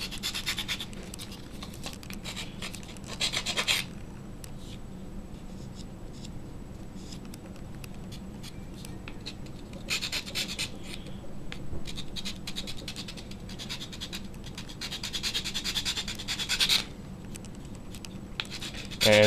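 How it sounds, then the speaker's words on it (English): Close hand filing smooths a filled hole in metal, with repeated rasping strokes in intermittent bursts separated by quieter gaps and no voices. "what I'm going to do is get my file and just file it smooth"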